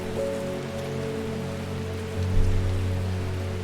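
Steady rain falls in Strange Horticulture, a constant soft patter set against low tonal game music, with a brief swell partway through.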